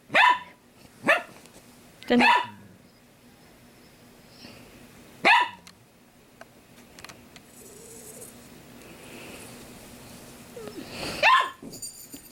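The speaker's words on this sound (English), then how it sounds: "Sorry, there's dogs in the next hotel room." Dogs bark in short, sharp bursts in a neighbouring hotel room, four quick barks then another after a pause, fairly close, with faint background noise between.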